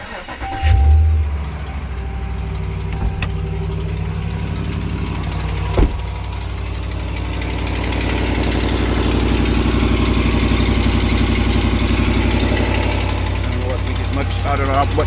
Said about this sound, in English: I'm going to start this cold so you can hear it.